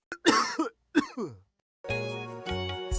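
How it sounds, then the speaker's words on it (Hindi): Two short, light coughs close by at a house door in a narrated village story, followed by a few seconds of soft tonal background sound. "दरवाजे पर हल्की सी खांसी करता है।"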